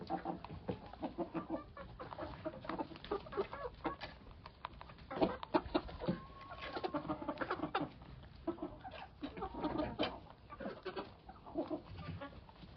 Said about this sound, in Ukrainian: от і кури дочекали своєї черги, пасуться